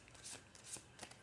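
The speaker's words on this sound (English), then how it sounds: "I might just do one little more shuffle." Soft, quiet rustling and riffling of a deck of tarot cards being shuffled, a few brief papery bursts close by.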